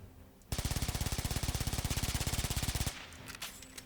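The Baza submachine gun in Warframe firing one continuous rapid burst of about forty rounds over two and a half seconds, loud and evenly paced, then stopping abruptly.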